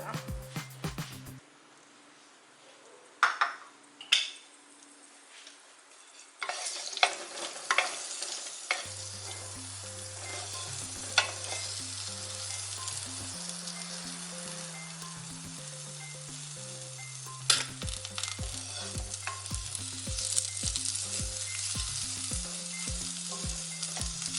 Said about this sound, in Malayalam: ഇനി നമുക്കിത് എണ്ണയിലോട്ടിട്ട് കൊടുക്കാം